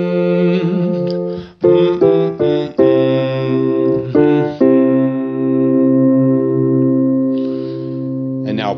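A voice hums a slow melody alone, sustained notes with a few brief breaths between phrases, close and clear.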